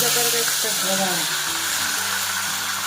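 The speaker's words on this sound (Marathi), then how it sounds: "बारीक गॅसवर अशी फोडणी तडतड करायची आहे" Mustard-seed tempering (phodni) with asafoetida and coriander crackles and sizzles in hot oil over a low gas flame for khandvi, steady and close, with a tonal, voice-like hum running underneath.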